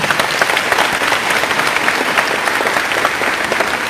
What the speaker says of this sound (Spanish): Aplausos para los dos hermanos.